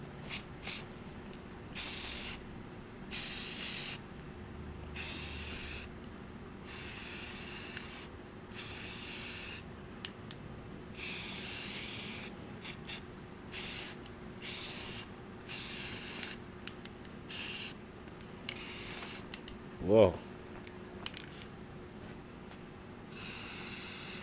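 A spray paint can sprays white paint onto metal brackets from a DDR arcade cabinet, in a long series of short, hissing bursts with brief pauses between them and a single knock near the end.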